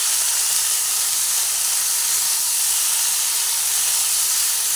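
Spiny gourd (kakrol) frying in a pan, a steady loud hiss and sizzle of hot oil that holds evenly without pause.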